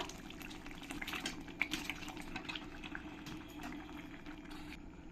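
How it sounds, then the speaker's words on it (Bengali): Chicken pieces dropped into spice paste frying in a pan for a curd chicken curry, giving a steady, fairly quiet sizzle and bubbling crackle that continues without pause. "এবার আমি এর মধ্যে চিকেনটা দিয়ে দেবো"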